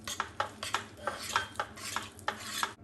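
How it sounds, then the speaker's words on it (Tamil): A spoon stirs cardamom powder and saffron into a burfi mixture of condensed milk and paneer, scraping the pan in quick, rhythmic strokes, quiet and close with no voices. "ஏலக்காய் பவுடர், குங்குமப்பூ நல்லா மிக்ஸ் பண்ணிப்போம்."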